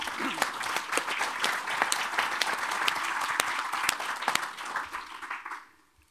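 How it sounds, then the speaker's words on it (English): An audience at a keynote introduction breaks into sustained applause, dense clapping filling the room for about five seconds before quickly fading away. "If we could have a round of applause for those folks, I'd appreciate it."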